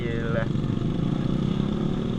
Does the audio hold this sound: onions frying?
no